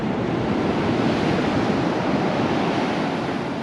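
Surf breaking on the beach at Capitola, California: a steady, continuous wash of waves with some wind, filling the whole stretch with no talking.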